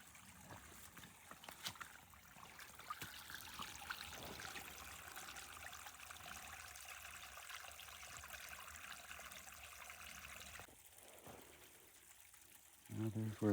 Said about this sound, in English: Now there's where the stream flows down a spillway there. A waterfall.